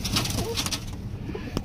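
A teddy pigeon coos softly while being handled, giving a brief, close, low burbling call over light handling rustle.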